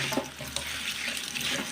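Tap water runs steadily into a sink to soak spinach and rinse off soil, a continuous close splashing stream with no talk.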